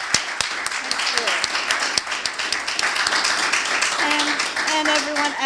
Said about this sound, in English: can we give a big round of applause to this team?